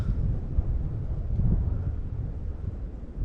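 Steady wind rumbles and buffets against the microphone on a forest trail in Black Rock Forest, New York, a low continuous roar with no other clear sounds.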